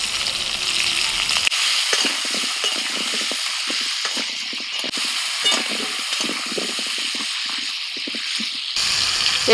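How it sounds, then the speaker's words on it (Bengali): New potatoes with a little turmeric and salt frying in hot oil in a wok, a steady loud sizzle running throughout with faint crackles, close up and with no voices. "কড়াইতে তেল গরম হয়ে গেছে আলু ভেজে নেব"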